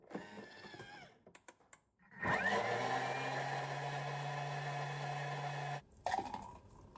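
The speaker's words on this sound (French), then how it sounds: "je le remets un petit coup pour bien mélanger la poudre de collagène" A Thermomix whirs loudly and steadily for several seconds as it blends a chocolate smoothie with collagen powder, starting abruptly and cutting off just as suddenly, with quieter handling sounds before and after.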